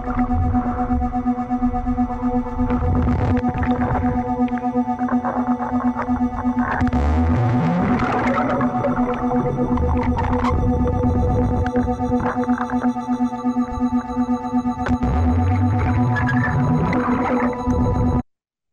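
Venice's high-water warning sirens sound in a variation of their tones, with a steady droning pitch held under rising electronic glides and sweeps, continuous and fairly loud before cutting off abruptly at the end.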